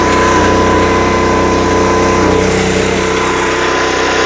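An Onan generator engine runs loud and steady at close range, a constant mechanical drone with a buzzing hum and no pauses or talk.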